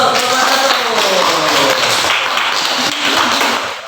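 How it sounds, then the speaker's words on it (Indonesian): A classroom audience of vocational school students claps together in a steady, dense burst of applause that holds full and close throughout, tapering slightly at the end. "Oke, kasih aplaus."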